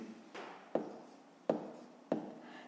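Pen or marker strokes writing numbers by hand while setting up a long division problem for a fifth-grade math exercise; three sharp taps of the pen against the surface punctuate steady soft scratching, close and quiet, with no talking.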